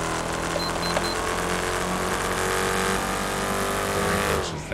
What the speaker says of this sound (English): Durango's just that loud.